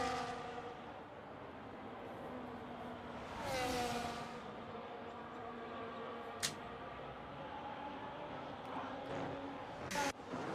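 Race cars in a racing video game set at the Mexico circuit roar down the main straight, with a steady engine drone, a whooshing pass-by swell midway and brief sharp bursts, while a commentator talks throughout.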